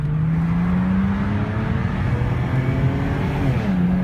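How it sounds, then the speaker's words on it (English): A BMW 335i pulls hard under full throttle on a test drive, its engine note loud and steady with a rising drone throughout, no talk over it. "the BMW 335i, we're getting an official test drive, let's plant it!"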